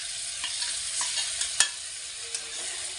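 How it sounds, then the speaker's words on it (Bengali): Ground tomato goes into spices frying in a pan for a duck egg curry, giving a steady hiss of sizzling with a few sharp scrapes and clinks as a spoon stirs the mixture. "এখন আমি বেটে রাখা টমেটো দিয়ে দিচ্ছি"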